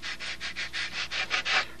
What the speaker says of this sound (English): I'm sanding this edge and this edge at the same time.